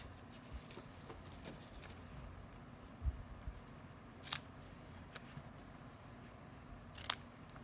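Scissors angle-cut the ends of paper for a handmade card, with a few faint, sparse snips against a quiet background.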